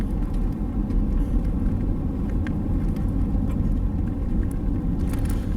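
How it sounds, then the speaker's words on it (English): A Ford Flex Limited AWD drives over a rough road, heard from inside as a steady low rumble of road and tyre noise with a few faint knocks from the bumps. "This is a pretty rough road right here,"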